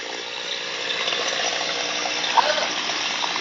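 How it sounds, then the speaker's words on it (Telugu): A motor pumping water outdoors gives a steady, continuous gushing rush with a constant hum beneath, holding level throughout with no voices. "ఇదిగోండి మోటార్"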